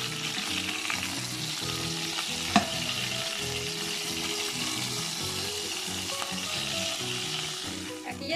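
Chicken breasts sizzle and fry steadily in hot fat in a frying pan, a continuous close crackle with one brief sharper pop and no talking.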